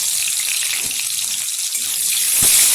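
Chopped onion sizzles in hot oil with dried red chillies for dal fry, a loud, close, continuous hiss and crackle lasting the whole moment with no talking.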